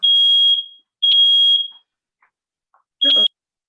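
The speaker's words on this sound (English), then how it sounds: "Fire alarm." Smoke-type fire alarm sounding during a board meeting: three loud, sharp electronic beeps, each around half a second, with short gaps between, the last one shorter and rougher.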